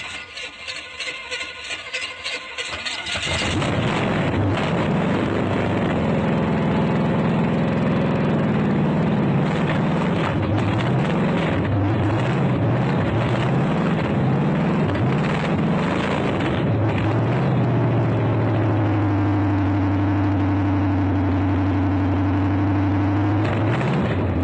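Car engine starts and settles into a steady, loud idle after a fresh engine and transmission install, rumbling continuously with slight shifts in pitch, no talking.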